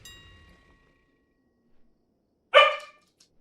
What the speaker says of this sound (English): if woofing occurs,